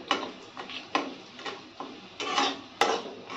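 A spoon stirs chana in a pot, scraping and knocking against the metal in a slow, repeated rhythm of soft clinks, close and fairly quiet.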